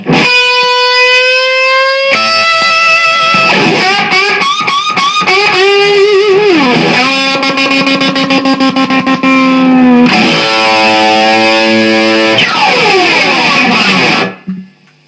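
Heavily distorted electric guitar plays a solo, loud and close, with fast runs, wailing bends and vibrato, sustained notes and a final scrape before stopping.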